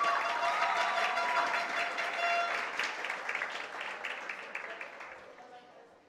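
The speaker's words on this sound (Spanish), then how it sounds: "Fuerte el aplauso para la Caja de Ahorros" Sustained audience applause at a regional oratory competition final in Veraguas, Panama, honoring a savings bank sponsor; a thick roar of many hands that stays strong, then gradually thins and fades toward the end, with some voices mixed in.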